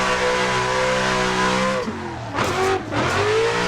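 A BMW E36 drifts in Assetto Corsa, its engine droning loud and steady under throttle, then dipping and surging again as tires squeal in short bursts.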